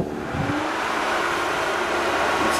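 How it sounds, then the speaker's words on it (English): A steady electrical whine and hum from an inverter driving a homemade electric outboard motor built from an angle grinder, rising as it starts up and holding at a constant loud level with no talking. "let's fire up this inverter and see if we can't make us a little bit of noise"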